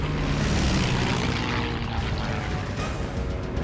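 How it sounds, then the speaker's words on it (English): Several WWII Japanese propeller planes approach with a broad, droning engine roar that stays loud and continuous, swelling slightly, with no voices present. "a swarm of 50 Japanese planes appears on the horizon"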